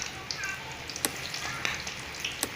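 Quail pieces sizzle steadily in hot oil, with a dense frying hiss broken by a few sharp spits and pops.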